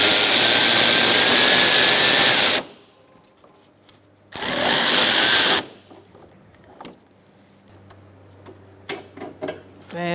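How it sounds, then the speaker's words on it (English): Ratchet with a 13 mm swivel socket working on an AC line bolt in a 2012-2018 Ford Focus, two loud bursts of dense clicking separated by quiet, then scattered small metallic taps and clatter. "using a 13 millimeter as well. I'm using a swivel socket so I can get in there."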